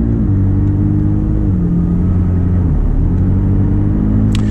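A McLaren 600LT engine drones steadily from inside the car while driving in sport mode, a loud continuous rumble with gear-like shifts in pitch as it accelerates, no talking over it.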